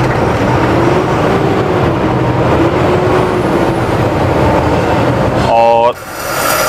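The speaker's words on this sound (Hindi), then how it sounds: "आप इंजन साउंड चेक कर सकते हैं, जो क्यूमिंग्स का इंजन यहाँ पर दिया हुआ है।" A Tata LPT 3518 BS6 cowl-chassis truck's Cummins diesel engine idles in neutral with a steady, loud rumble, then a short, sharp tonal burst near the end before the engine noise settles back.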